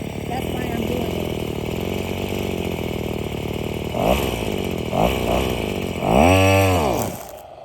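A brand new string trimmer engine runs at a buzzing idle, then surges through several sharp revs, the last one rising and falling in a loud sweep before it drops back. A voice talks over it.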